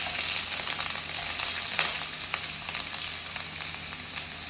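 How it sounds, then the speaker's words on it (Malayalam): Curry leaves and chopped onion frying in hot coconut oil for a Kasaragod-style chicken dish, giving a steady close sizzle with scattered crackles and pops throughout, with no talking. "വെളിച്ചെണ്ണ ഒന്ന് ചൂടായി വരുമ്പം കുറച്ച് കറിവേപ്പില, അതിൻ്റെ കൂടെ നമ്മൾ അരിഞ്ഞു വെച്ച ഉള്ളി"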